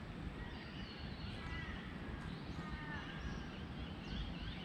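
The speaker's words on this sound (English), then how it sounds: "You can hear the birds." Birds singing beside a closed freeway, faint chirps and trills scattered over a steady low outdoor rumble of wind, with no traffic.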